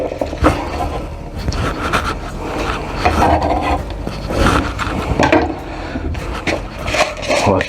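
Smoked salmon coating ingredients are stirred together in a small salad bowl, giving steady rubbing and scraping of utensil against bowl. The strokes come in a continuous rhythm, close and fairly loud, with no talking.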